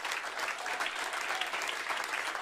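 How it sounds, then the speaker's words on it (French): Audience applause for a music group at a church gathering, a continuous mass of clapping heard at moderate distance with no voices over it. "Si on peut les applaudir, s'il vous plaît."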